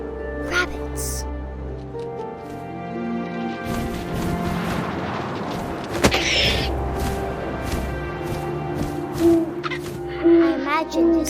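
Owl hoots sound in the video game What Remains of Edith Finch, a few soft calls mixed with wind, rumbles and a narrating voice, mid-distance and intermittent.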